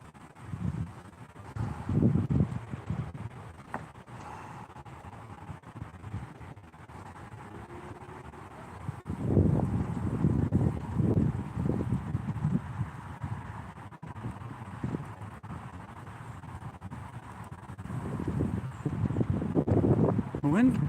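Wind buffets the microphone in low rumbling gusts that rise and fall in a sunken garden, heaviest near the middle and end, with no other sound standing out.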